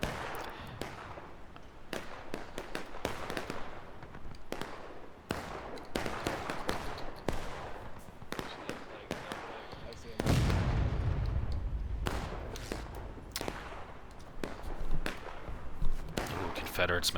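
Civil War cannon fire in the multiplayer game War of Rights on the Antietam map: a steady barrage of booming artillery shots and crackling musket fire, with one deep heavy blast partway through and voices talking over it.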